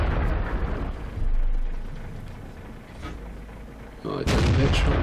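Tank cannon shots from the World of Tanks game, with a Panther in play: booming blasts near one second and again at four seconds, followed by rumbling decay, loud and close, with faint speech in the background.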